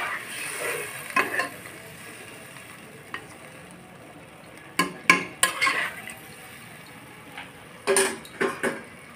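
A spoon scrapes and clanks against a metal pot while rice and potato cook with water in it, giving a few sharp clustered knocks over a soft, steady sizzle.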